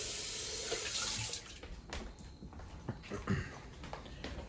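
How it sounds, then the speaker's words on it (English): Water poured into a pan of browned meatballs, a soft continuous splashing and hiss at first, then fading into quieter sizzling and small bubbling sounds, fairly faint. "I'll put a little water in because it's going to cook for probably 20 minutes."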